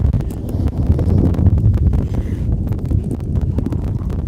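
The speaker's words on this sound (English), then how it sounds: "This wind's coming from that direction." Gusty wind buffeting the microphone, producing low rumbling thumps and uneven bursts of noise throughout.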